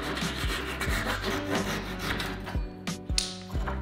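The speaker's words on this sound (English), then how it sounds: "saw away the excess, making sure I was using the rip teeth on the saw instead of the crosscut teeth" A hand saw with rip teeth cuts through poplar, a steady rasping back-and-forth stroke close by with rhythmic scraping pulses and no voices.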